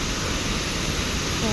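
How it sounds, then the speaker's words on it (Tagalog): A waterfall roars in a close, dense and unbroken rush of white noise that stays steady from start to finish. "Falls."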